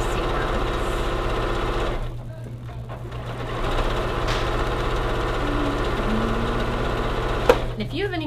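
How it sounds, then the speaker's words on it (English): A sewing machine stitches quilt pieces along a quarter-inch seam, a steady rapid mechanical hum with a short lull partway through and a small clack near the end. "And then I will sew again using the 1/4 inch seam allowance"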